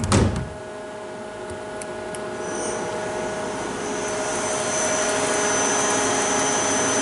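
A Miyano BND T2 CNC lathe spindle starts with a brief clunk, then spins up into a steady, loud whirring hum with a faint high whine, continuing evenly.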